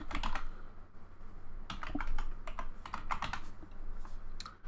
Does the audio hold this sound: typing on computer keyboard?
yes